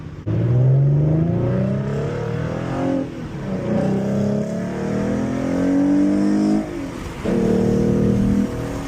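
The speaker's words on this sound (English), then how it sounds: "So you just saw there, just shifting by myself. I let off the throttle there." A 2014 Ford Mustang with an automatic transmission revs hard through manually selected gear changes, the engine note climbing and dropping at each shift, loud and continuous for about nine seconds.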